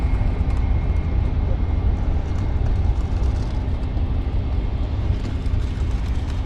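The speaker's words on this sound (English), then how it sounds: "Zurich flight operated by Hervik is now moving as well." A passenger aircraft on a Zurich flight taxiing at London City Airport, a continuous broad engine roar and rumble heard from a distance, steady and fairly loud throughout with no clear voices.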